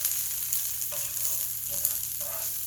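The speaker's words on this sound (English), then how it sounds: "I'm going to put those in and mix it up" Chopped garlic fries in a pan with a constant hiss of sizzling, while several stirring scrapes sound up close and no one speaks.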